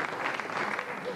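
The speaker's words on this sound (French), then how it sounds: "On applaudit Cyril Big Jim." Studio audience applause for a performer on a French comedy show, a steady dense wash of clapping held at an even level for a brief stretch with no gaps.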